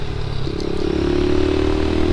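Buccaneer 125 motorcycle engine while riding on a Seoul night road in autumn, a steady low droning hum that builds slightly, close and loud with some rattling texture.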